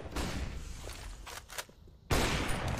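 Gunfire in a Counter-Strike match, quick bursts of shots with a short pause before a loud renewed volley near the end, heard over quiet game ambience.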